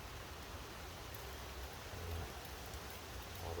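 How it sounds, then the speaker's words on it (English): Rain falls steadily at a winter shelter camp as a dense, even hiss of drops fills the whole stretch, with no breaks and no voices. "Just as the rain comes in."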